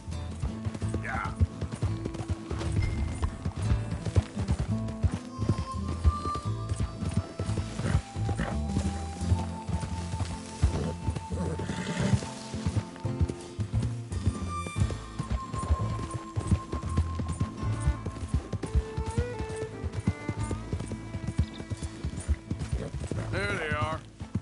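Horse hooves clip-clop steadily in a PS4 video game, with music and game sounds playing throughout and characters talking over them.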